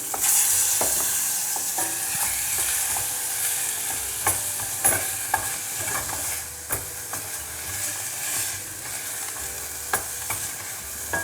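Chopped onions sizzle and fry in a pan with salt, a steady hiss broken by the scrape and clatter of stirring, close and without talk.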